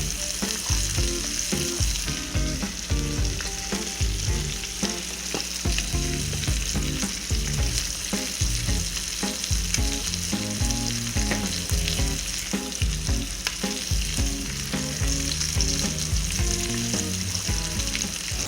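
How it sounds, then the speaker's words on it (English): Short ribs brown in a hot pan for red wine braised short ribs, making a loud, continuous close-up sizzle and spatter that holds steady throughout with no voices. "So the meat is browning."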